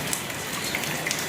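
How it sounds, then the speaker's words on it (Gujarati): Heavy rain pours down steadily through the night, a dense, even hiss with scattered louder drops and no voices. "આખી રાતનો વરસાદ ચાલુ છે સખતવાળો."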